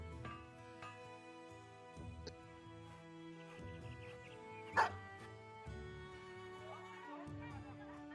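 Dogs in the medieval mercenary video game Battle Brothers give short barks and yips over a droning game music bed, with one sharp louder bark near the middle.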